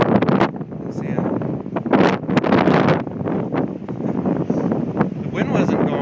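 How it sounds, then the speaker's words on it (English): Gusty wind roars across an exposed, previously logged hillside along a logging-road hiking trail on a January day, a steady broadband rush with louder buffeting surges close on the microphone throughout. "we'll be kind of exposed to the wind here"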